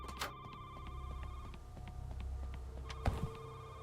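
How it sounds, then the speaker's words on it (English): In the horror game Shift at Midnight, a telephone keeps ringing as a quiet, continuous tonal ring under a low room hum, broken near the end by a sudden dull thump. "I don't want to answer the phone."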